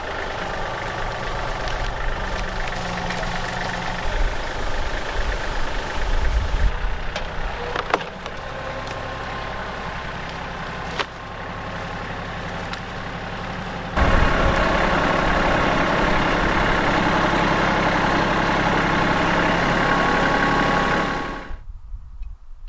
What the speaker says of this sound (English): let's see what we can do with the tractor